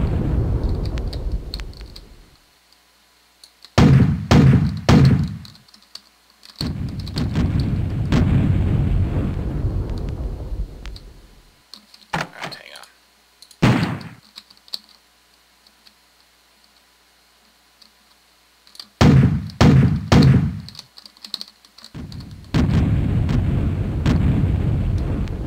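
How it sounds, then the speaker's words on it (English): Bombardment explosions in WolfenDoom, heavy booming blasts arriving in irregular clusters with rumbling decay and silent gaps between, loud and close. "Being bombarded here."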